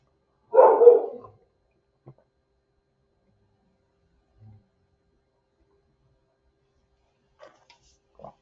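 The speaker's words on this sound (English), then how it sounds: "Sorry about the dogs" A dog gives one short, loud burst of barking close by. Near-silence follows, broken only by a few faint, scattered small sounds.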